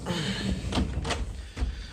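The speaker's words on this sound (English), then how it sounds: "Alright, closing the door." A door is shut in a workshop during a bicycle repair, giving a few dull knocks and thuds over a loud, rough background of noise.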